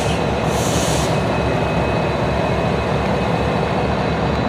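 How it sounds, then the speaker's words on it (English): A train rumbles steadily past close by, a constant loud roar of wheels and cars on the track with a brief high squeal early on. "And here's the train, as you just saw."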